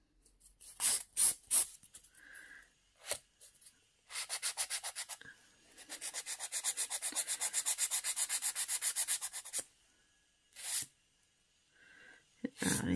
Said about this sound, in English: So I'm just filing over the top area here.